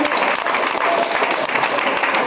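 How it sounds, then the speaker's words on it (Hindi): A business gathering's audience gives hearty applause for Vinay sir and his family: a thick, continuous wash of many hands clapping, loud and unbroken from start to finish. "मैं एक बार जोरदार तालियां चाहूंगी विनय सर उनकी पूरी फैमिली के लिए"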